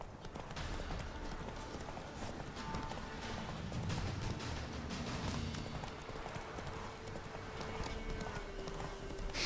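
Horse hooves galloping in The Witcher 3, a fast, steady clip-clop at close range mixed with game ambience and a brief neigh.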